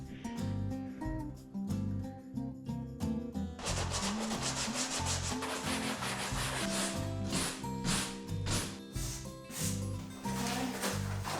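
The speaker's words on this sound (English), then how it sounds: "This is where I did my glue DIY fix last time. I need to sand that down a little bit." Sandpaper rubs down old glue on the headliner of a VW Jetta TDI, producing continuous close scratchy strokes in a rhythmic back-and-forth pattern, growing rougher and busier partway through.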